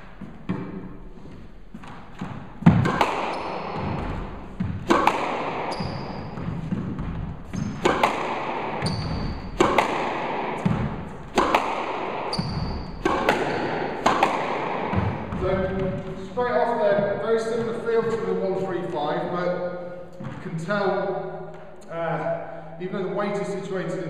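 Squash balls struck with a Head Graphene Cyano 115 racket on a court, a series of sharp, fairly loud thuds spaced a second or two apart, alternating with a voice that talks over the later hits.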